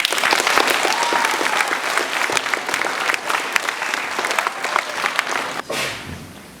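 An audience at a school prizegiving claps loudly and densely, then the applause thins into scattered claps and fades out near the end.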